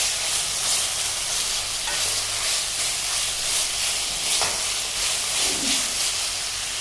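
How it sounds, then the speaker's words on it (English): Green chilies, ginger and garlic paste sauteing in a pan, giving a steady close sizzle and frying hiss with occasional stirring scrapes, no talking. "We'll saute till the raw smell of the ginger garlic is also gone."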